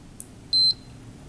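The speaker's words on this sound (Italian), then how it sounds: "raggiunta la profondità l'orologio emetterà degli allarmi acustici e visivi" A Cressi Nepto dive computer watch sounds its depth alarm, a single short high electronic beep preceded by a faint tick, close and clear over quiet room hum.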